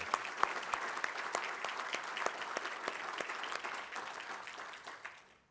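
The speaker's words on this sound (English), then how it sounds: "I would just like to do a round of applause for all the CG folks here." Round of applause from an audience at a business chamber's inaugural address, many distinct claps rising into steady clapping that holds for several seconds, then tapers and stops.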